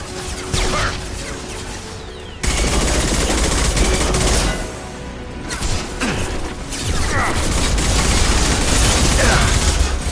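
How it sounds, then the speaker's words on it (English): Dense rapid gunfire and weapon bursts from a Mass Effect 2 firefight, loud and continuous with sharp cracks and impacts layered over a rumbling low-end battle bed throughout. "Taking heavy fire."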